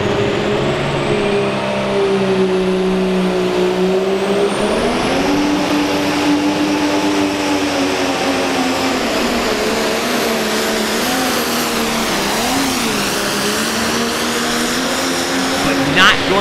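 A pulling tractor's engine roars at a tractor pull at the Alltech Arena in Lexington, Kentucky, holding a loud, steady drone whose pitch climbs and wavers with load throughout, with no pause.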